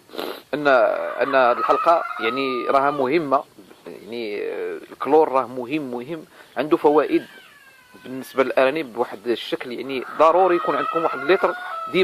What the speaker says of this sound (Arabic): كنعتذر على الصوت ديال المقاقيه ديال الدجاج، لان اوقيتهم هذه باش كيوضعوا البيض